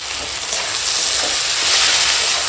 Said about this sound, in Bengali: টমেটোটা গলে যাওয়া পর্যন্ত একদম কষাবো